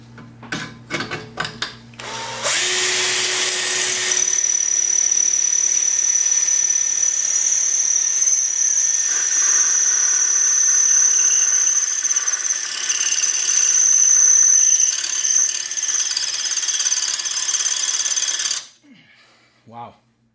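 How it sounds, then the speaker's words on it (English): A power drill with a bit bores into a snow blower, a loud, steady high-pitched whine that runs for about sixteen seconds after a few short clattering knocks, then cuts off abruptly. "Okay, I'll get a drill and a bit."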